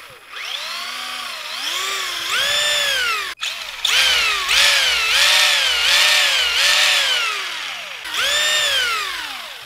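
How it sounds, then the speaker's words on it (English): A Tamiya TT-01E RC car's drivetrain with a straightened drive shaft spins up in repeated bursts, a loud, close, high whine rising and falling in pitch with each burst and one brief cutout, no talk. "does it sound smoother because of a straighter drive shaft?"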